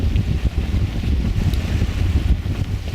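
Strong gusty wind buffeting the microphone aboard a sailboat in Cordova Bay Channel, a loud continuous low roar with rushing water beneath, no voices.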